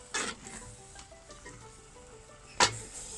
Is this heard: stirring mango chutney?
yes